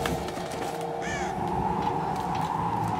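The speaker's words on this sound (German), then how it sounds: "Und die Raben." Ravens caw in the video game Tomb Raider during a snowstorm on a high mountain, a brief cry over a steady roar of wind and ambient game sound.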